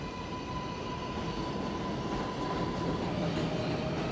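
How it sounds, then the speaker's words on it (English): A New York City 7 subway train passes through Queens with a steady loud rumble and a rolling wheel roar that holds throughout, plus a thin squealing tone above it. "There's the other train."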